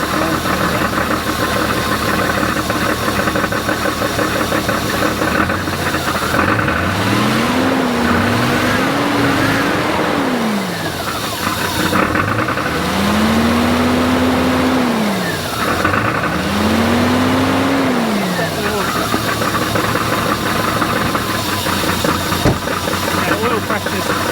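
A 1990 Jeep XJ 4.0 engine, first started in 14 years with its ignition bypassed, runs steadily with a loud hissing, rattling drone, revving up and down a few times.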